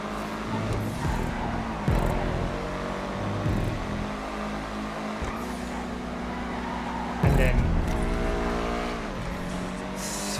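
GTA V race car with low-grip tyres, driven in a multi-class video game race: engine drone and repeated tyre squeals and revs come in bursts over continuous game noise, with a commentator talking throughout.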